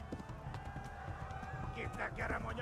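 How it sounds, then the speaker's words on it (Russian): Horse hooves gallop in a steady clip-clop rhythm in the video game Kingdom Come: Deliverance, close and continuous under game music and a talking voice. "лошадь сама бежит"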